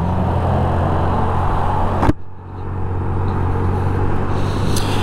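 A 2022 Honda NAVI motorbike pulls away, its steady low engine drone continuing after a sharp brief click midway, then settling into a slightly quieter, even running note as it rides off.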